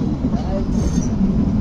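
Kalka to Shimla toy train running, a steady low rumble and rattle of the carriage that continues throughout, with faint voices mixed in.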